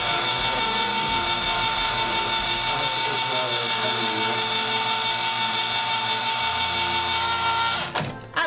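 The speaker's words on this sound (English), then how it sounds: "I love that can opener." An electric can opener runs on a can, a steady close motor whine with a faint rhythmic grind that continues for several seconds, then cuts off with a brief clatter at the end.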